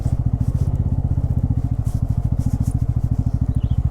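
An N250 motorcycle engine thumps in a fast, steady low pulse close by, with no voices, like riding along at an even pace on an off-road route between Bhadrachalam and Maredumilli.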